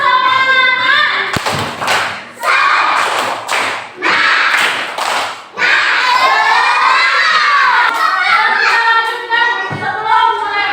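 Indonesian schoolchildren in a classroom perform a loud rhythmic 'tepuk semangat' clapping chant, sharp clap bursts and thumps alternating with shouted group chanting, then a sustained chorus of young voices.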